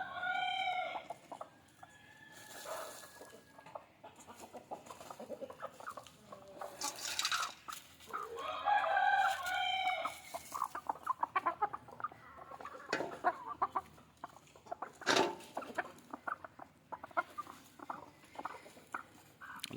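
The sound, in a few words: chickens clucking while scratching for food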